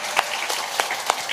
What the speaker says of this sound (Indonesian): tepuk tangan kagem Bu Gemi